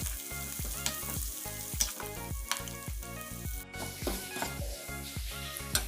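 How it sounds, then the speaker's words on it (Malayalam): Green chillies and curry leaves sizzling in hot oil while cooking Chicken 65, a quiet steady crackle broken by sharp pops and occasional utensil scrapes; no voices. "കുറച്ച് കറിവേപ്പിലയും കൂടെ ഇടുകയാണ്"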